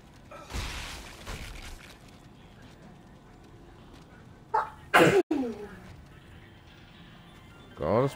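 A single loud, close sneeze bursts out midway, set against a quiet background of game sounds and scattered noises, with speech nearby.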